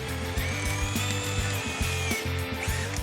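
A power drill with a sharp bit bores through wood in a steady, close whine, with the motor load dipping in short regular pulses as the bit cuts, and no talking.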